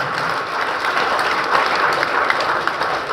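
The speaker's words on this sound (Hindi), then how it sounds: "तो इन बच्चों के लिए एक बार जोरदार तालियां" An audience at an Arya Samaj Gharaunda gathering applauds children after a staged drama of Veer Haqiqat Rai, with energetic, continuous crowd clapping filling the whole moment.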